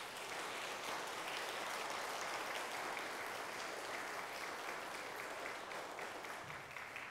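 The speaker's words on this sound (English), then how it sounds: "Would you give a praise to God through a round of applause for these young people?" A church congregation at a Lutheran Sunday service applauds for its young people, a dense, steady wash of many hands clapping at a soft, distant level for several seconds.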